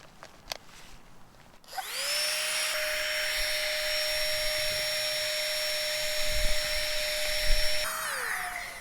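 An electric air pump inflates a camping air mattress on a cold night outdoors, starting after a few faint knocks with a sudden loud, steady high-pitched whine and whirr that holds for several seconds before winding down at the end.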